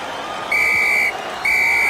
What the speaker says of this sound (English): And there goes the final whistle.